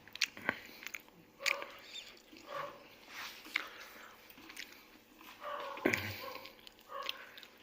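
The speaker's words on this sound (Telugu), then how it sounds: "నేను తిని చూపిస్తాను చూడండి" Close-up chewing of avakaya mango pickle with food, with crisp bites and crunches at irregular intervals, quiet between each mouthful.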